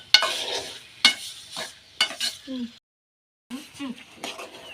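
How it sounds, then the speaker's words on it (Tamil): A village-style salt fry is stirred in a pan, with several bursts of spoon scraping and sizzle at roughly one-second intervals, a brief silent gap, then more stirring close by. "உங்களே நல்லா கிண்டு கிண்டு கிண்டி இலறி விட்டு பாருங்க"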